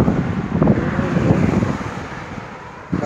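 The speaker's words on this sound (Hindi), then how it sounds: "बहुत तेज़ हवा चल रही है यार" Strong wind buffets the microphone in a steady, heavy low roar with gusty surges, loud and close throughout.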